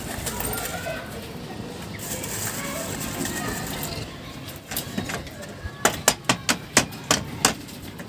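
A run of about eight quick, sharp taps as a nail is hammered into wood in a carpentry job, coming after a stretch of busy background noise with birds cooing.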